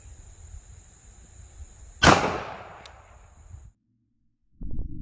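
A single sharp gunshot from a Glock pistol firing a Federal 9mm hollow point into ballistic gel, loud and close, with a ringing decay over about a second and a half before near silence.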